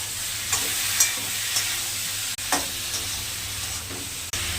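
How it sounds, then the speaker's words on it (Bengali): A potato and tomato mash seasoned with chili powder, turmeric and sugar is stirred in a pan, giving a few soft scraping strokes over a faint steady sizzle. "নাড়াচাড়া করবো।"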